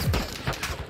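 Video game gunfire from a special forces mission crackles in a short rapid burst of loud, close shots filling about a second.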